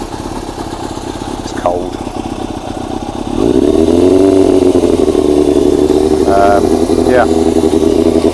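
Motorcycle engine running after fuel tank prep, idling then picking up to a louder steady run, close by with brief talk over it.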